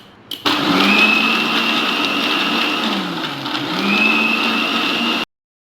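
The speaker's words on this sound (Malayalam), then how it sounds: "ഇതടച്ചു വെച്ച് നമുക്ക് മിക്സിയിൽ ബ്ലെൻഡ് ചെയ്തെടുക്കാം" An electric mixer-grinder blends a cotton candy shake with ice cream, switching on with a click and whirring loudly and steadily for about five seconds, its pitch dipping and rising, then cutting off abruptly.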